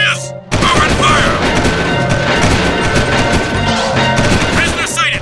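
Guards open fire in Jak and Daxter, a dense loud barrage of rapid gunshots and blasts rolling continuously after a brief pause, with shouted game voices over the din.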